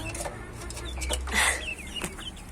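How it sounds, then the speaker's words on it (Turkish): A chicken clucks in short, soft bursts against a faint outdoor background, with one slightly louder call near the middle. "Şurada bir tavuğumuz var"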